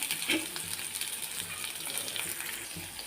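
Two large onions and two dried red chillies frying in hot oil for a chutney, a steady close hissing sizzle that carries evenly throughout.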